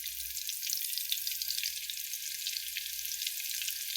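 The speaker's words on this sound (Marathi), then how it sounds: "तडतड होऊ दे चांगलं" Steady, bright crackling and sizzling of crushed garlic frying in hot oil, continuous and close, with no talking.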